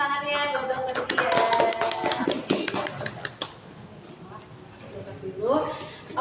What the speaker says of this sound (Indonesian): Oke, tepuk tangannya buat Dr. Zia.